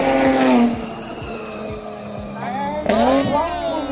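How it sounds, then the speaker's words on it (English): Chevy Camaro muscle car racing a large BYD Tang electric SUV, with loud engine roar, whining revs rising in pitch and a brief tire squeal up close, under an energetic voice talking. "The Chevy Camaro American Muscle going up against our huge SUV, the BYD Tang."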